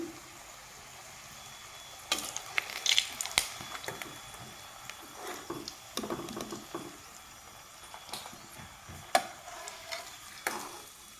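Papad rolls fry in hot oil in a pan, a soft steady sizzle broken by irregular crackles and light taps of a utensil, with no talking.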